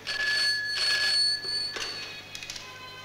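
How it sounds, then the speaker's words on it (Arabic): A telephone rings in an Egyptian film scene, two long bright electronic ring bursts close by, followed by fainter clicks and room noise, with no voices. "تليفون"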